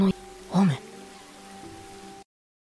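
Rain falls in an anime scene, a soft continuous hiss beneath a brief vocal sound and a sustained musical tone, ending abruptly in silence.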